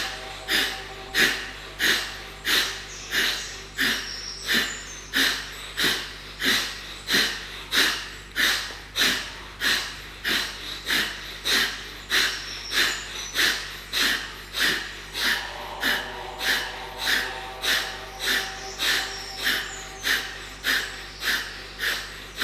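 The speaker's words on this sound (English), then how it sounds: "You're breathing in through the nose and flicking the tummy muscle back on the exhalation." Rapid forceful nasal exhalations in a breathing exercise, a steady rhythmic series of about forty sharp puffs, close and clear with a faint hum beneath.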